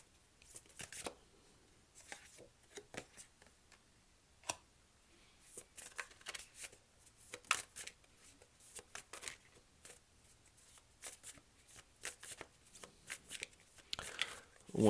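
Tarot cards are shuffled and cut in intermittent bursts of dry, papery riffles and slaps, close and fairly quiet, with pauses between the flurries.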